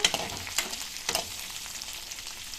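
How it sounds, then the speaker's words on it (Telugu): Green chillies and coriander leaves fry in oil for a chutney, giving a steady close sizzle with a few sharper crackles and stirring scrapes near the start. "నూనెలో కాస్త ఇలా చక్కగా పచ్చిమిర్చి మగ్గాక ఇప్పుడు కొత్తిమీర వేసుకోవాలి"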